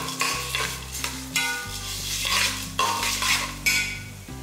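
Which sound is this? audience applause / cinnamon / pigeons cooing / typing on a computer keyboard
cinnamon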